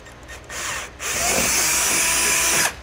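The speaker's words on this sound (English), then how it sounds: "we're using a 1/4-inch bit to drill that out" A power drill with a 1/4-inch bit bores a hole for a front-mount trailer hitch, starting in short whirring bursts and then settling into a loud, sustained grinding whine that stops abruptly.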